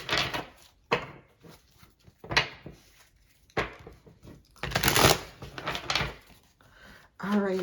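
Tarot cards being shuffled in repeated riffling and sliding bursts, close and moderately loud, with brief pauses between handfuls and a low voice murmuring faintly in places.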